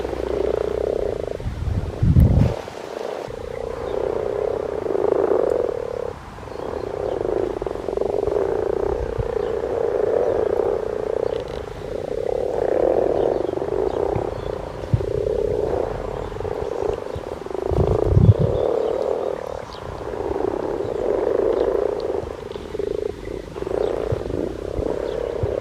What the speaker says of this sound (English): there are frogs everywhere.